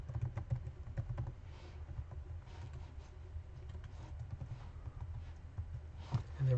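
Quiet, close keyboard typing: a quick patter of light key clicks in irregular bursts while entering code, with no voices.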